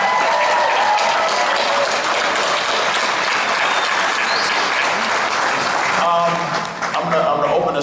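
Loud, steady applause and cheering from a Comic Con panel audience filling the room throughout, with voices mixed into the crowd noise.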